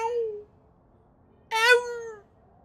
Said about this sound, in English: My cat's squealing in the distance.